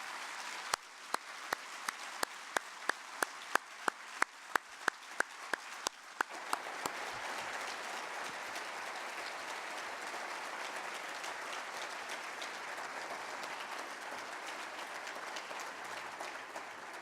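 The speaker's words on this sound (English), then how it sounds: "please join me in a round of applause for the Apollo 8 crew: Frank Borman, Jim Lovell, and Bill Anders." Audience applause for the Apollo 8 astronauts at a book launch event in Chicago, starting with a few distinct sharp claps and swelling into a sustained, even wash of clapping across the room.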